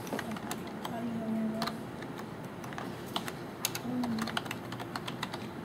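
Someone types on a computer keyboard to enter pledge information, producing irregular close clicks and clusters of keystrokes over a quiet room with faint background hum.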